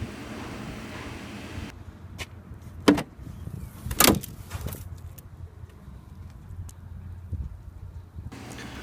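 Inside a Chevrolet Camaro ZL1, a seat lever clicks and the front seat slides forward with a couple of sharp knocks and rustling thumps, set against a quiet, near-silent cabin.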